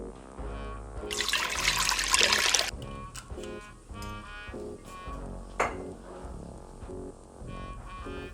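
Vodka poured from a bottle into a cocktail glass while a drink is mixed in a home kitchen, a brief bright splashing gush early on, then quieter clinks and trickles with a background melody.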